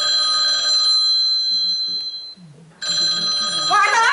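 A telephone rings in a stage play, with a steady electronic bell tone that breaks off briefly and starts again, loud and close, while some faint voices and stage noise sit underneath.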